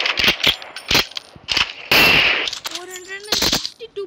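In the video game Free Fire, an AWM sniper rifle fires a series of sharp, loud shots at uneven intervals, one ringing out longer than the rest, while a voice speaks briefly between them.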